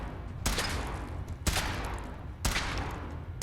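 Weapon in Fallout 4 firing three heavy, sharp blasts about a second apart, each one loud and close with a rumbling tail that fades out before the next shot.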